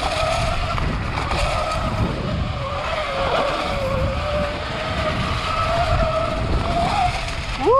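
A Surron electric dirt bike losing traction on a woodland trail, with a loud, continuous whine and scrabbling tyre noise that holds steady at close range.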